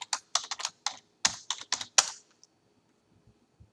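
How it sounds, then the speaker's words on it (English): A password typed on a computer keyboard: about a dozen crisp, close key taps in a quick uneven run lasting two seconds, then near silence with a few faint clicks. "I'm going to go and just type in my password here."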